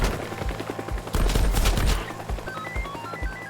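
Enemy gunfire in the Teardown video game: rapid bursts of shots crackle and rattle, loudest in a dense volley at the middle, then scattered single shots, with no voice.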